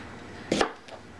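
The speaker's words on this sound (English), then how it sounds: "this is exciting watching me chop" A kitchen knife chops vegetables for a batch of dill pickles, giving one short, close double knock on the cutting board with a faint tap after it. The sound is brief and clear over a quiet background, with no talking.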